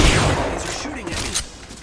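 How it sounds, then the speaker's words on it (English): Weapons firing at the player in the video game Apex Legends, a loud wash of gunfire with rolling, overlapping shots and a brief sharper burst near the end. "These are shooting at me."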